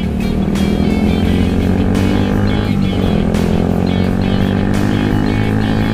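Motorcycle fitted with a racing exhaust riding on a group tour, a loud continuous engine drone with throttle swells and shifts, close to the microphone.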